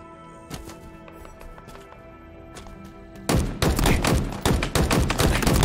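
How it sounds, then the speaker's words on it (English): Heavy video game gunfire from the Halo Infinite tech preview: quieter scattered shots and game sounds, then a loud sustained burst of dense, rapid firing and impacts in the second half. "In a hail of gunfire!"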